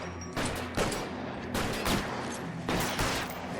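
Gunfire in L.A. Noire, repeated bursts of rapid shots arriving in clusters roughly every second, fairly distant and moderately quiet over a low background hum.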